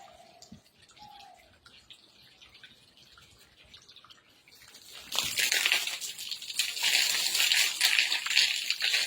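Water starts running from a pipe for bathing, a soft dripping at first, then a loud, steady hiss and splash that continues to the end.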